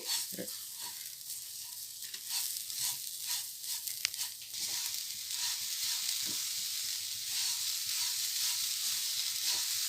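Milk and coconut barfi mixture with sugar being stirred in a pan over low heat, giving a steady close sizzle with soft scraping stir strokes throughout.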